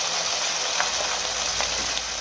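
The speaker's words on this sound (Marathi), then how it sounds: "तेल चांगलं तापलंय. भटुरा आपण तेलामध्ये घालूया" Bhatura dough fries in hot oil, a steady broadband sizzle and hiss with faint crackles throughout, heard alone.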